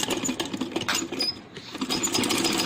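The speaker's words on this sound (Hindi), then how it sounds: "सेम इसी तरीके से हम दूसरे पोंचे पर भी सिलाई लगा लेंगे।" A sewing machine stitching fabric for a handmade long frock, with rapid mechanical clatter in uneven bursts, a brief slowdown midway and then picking up again, close by, with no talking.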